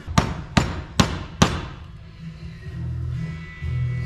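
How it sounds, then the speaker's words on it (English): A hammer strikes a piece of a guitar wall hanger four times in an even rhythm, close and loud with sharp metallic attacks, followed by quieter handling noise. "Take this piece off so that we can hammer it."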